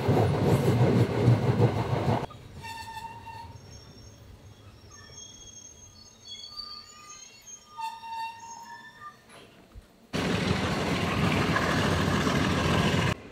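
Passenger train in southern Sri Lanka about to pull into its station, running loud and close in a broadband rumble with wheel clatter at the start and again near the end, easing into a quieter carriage stretch between with tonal squeals and hums.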